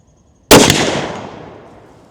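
A single sharp rifle shot fired while zeroing on a target, a loud close crack followed by a long decaying echo across an open range.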